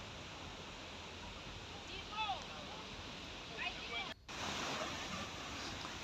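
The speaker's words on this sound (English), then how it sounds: "Finally, here is the waterfall," Cabi Waterfall in Kirinyaga roars as a broad, steady rush of falling water, heard from a distance with a brief dropout partway through.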